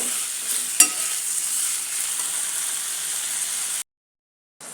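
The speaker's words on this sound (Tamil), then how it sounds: "நல்லா வதங்கிட்டு பாருங்கள்." Onions and tomatoes sautéing in a pan for rajma masala, a steady soft sizzle with a brief sharp stir clink, close and alone, cutting to silence before resuming briefly.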